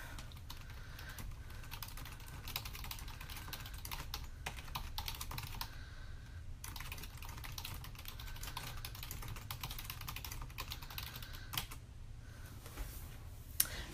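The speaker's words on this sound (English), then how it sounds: "we're going to type in our quiz name" Steady, continuous typing on a computer keyboard while entering a quiz name, with dense rapid key clicks running for the whole stretch at close range and no speech.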